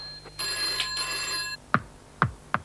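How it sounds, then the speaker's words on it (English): A ringing telephone bell with several bright electronic trills, followed by three sharp sounds after it stops, loud and close with no talking. "phones ring"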